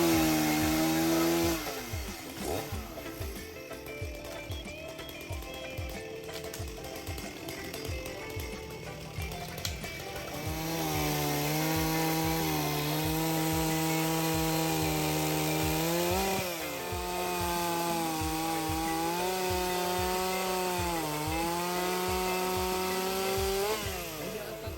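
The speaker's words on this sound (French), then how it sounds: "voilà mon père avec sa tronçonneuse dans son élan en train de découper du bois" A chainsaw cuts dry wood in a valley on Fatu-Hiva in the Marquesas, gathered for wood carving; the engine idles, then revs into long loud cuts, its pitch dipping and rising as the chain bites.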